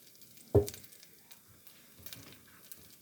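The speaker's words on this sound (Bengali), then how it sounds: "দিচ্ছি জিরে ফোড়ন।" Cumin seeds dropped into hot oil in a home kitchen pan, a sharp initial hiss followed by soft, faint crackling and popping.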